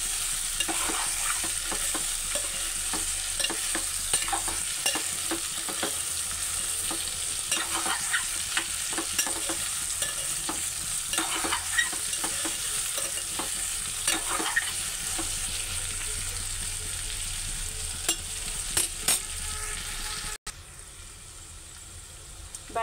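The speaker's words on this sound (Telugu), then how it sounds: "బెండకాయ ముక్కలు ఇలా వేపుకోవాలి ఫ్రెండ్స్." Okra pieces frying uncovered in an open pan, a steady loud sizzle with frequent stirring scrapes that drops suddenly to a quieter hiss near the end.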